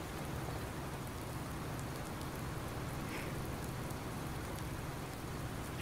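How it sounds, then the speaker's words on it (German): Rain in Farming Simulator 19 on a farm map, a dense, steady hiss of falling rain on surfaces, loud and continuous with no talking over it. "Regen, Regen, Regen."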